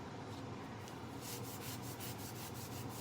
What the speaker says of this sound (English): I just scrub it right along this metal, it's taking off all of that rust